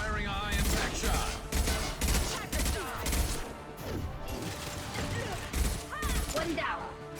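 Weapon fire in the video game Mass Effect 2 comes as repeated heavy bursts of shots and impacts in a steady rhythm, loud and close, with a voice speaking over parts of the action.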